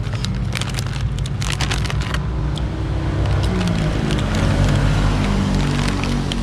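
Motorcycles pass by on a road, their engine drone rising and falling in a continuous close rumble with a swell of passing traffic. No one speaks.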